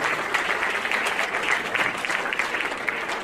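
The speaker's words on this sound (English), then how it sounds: "Please let's give him a big round of applause for his 30 years of service." Guests at a farewell celebration honoring a diplomat's 30 years of service break into a big round of applause: dense, even clapping from a room-sized crowd, continuous and unbroken by speech.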